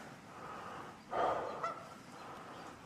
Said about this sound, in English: We got geese, ducks.